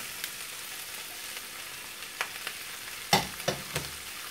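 Green and red peppers sauté with onion in a pan, a soft steady sizzle broken by several sharp utensil knocks and scrapes as they are stirred.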